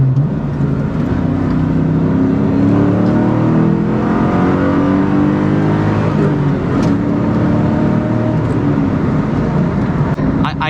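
A Ford Mustang Cobra V8 pulls hard in second gear, its engine note rising steadily in pitch as it accelerates, loud and close throughout from inside or near the car.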